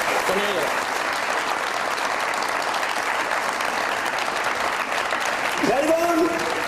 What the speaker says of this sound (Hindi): सारी चाहिए तालियां सानिया कामरान के लिए